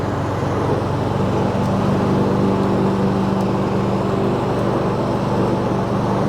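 A John Deere Z425 riding mower runs and drives, its engine a steady, loud, even drone held close throughout with no voices.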